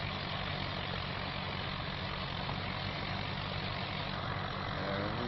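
Steady tractor engine drone in Farming Simulator 25, ploughing at Oak Bridge Farm: a continuous low, even idle-like rumble, loud and unbroken throughout with no other sounds.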